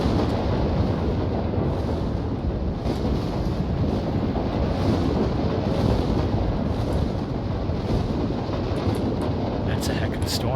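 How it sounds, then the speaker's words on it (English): A heavy storm in the video game Voices of the Void, with a steady, dense roar of wind and rain that holds at one loud level throughout and carries faint high hiss flickers near the end. "That's a heck of a storm."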